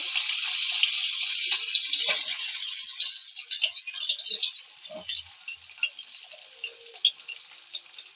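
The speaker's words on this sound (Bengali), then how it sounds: "পনির গুলো এরম ভাবে ভেজে নিতে হবে এক এক করে" Paneer pieces frying one by one in refined white oil for a mixed vegetable dish, a steady bright sizzle with scattered crackles and pops that fades a little toward the end.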